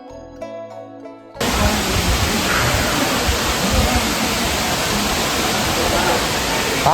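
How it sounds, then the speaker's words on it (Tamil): Agaya Gangai falls, a large waterfall in the Kolli Hills, pours in a loud, steady, hissing roar that begins abruptly after a short bit of music and fills the rest of the moment. "ஏன்னா அந்தளவுக்கு ஒரு பிரம்மாண்டமான வாட்டர் ஃபால்ஸ் நான் காட்டுறேன் பாருங்கள்."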